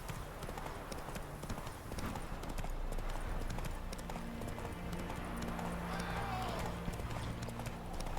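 Horse hooves galloping in The Witcher 3, a fast continuous clip-clop rhythm running throughout alongside game ambience and a brief whinny-like tone, with faint background sound but no clear speech.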